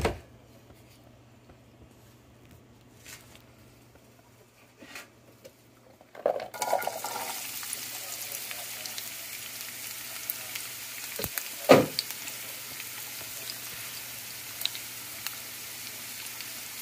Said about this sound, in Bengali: এখন অলিভ অয়েল ঢেলে দিচ্ছি।